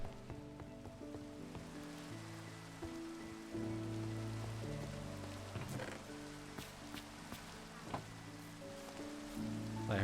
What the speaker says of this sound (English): I love the sound of the rain outside.